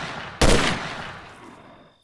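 A single loud, close gunshot blasts out in S.T.A.L.K.E.R.: Shadow of Chernobyl during a firefight, with a sharp attack and a reverberant tail fading over about a second and a half.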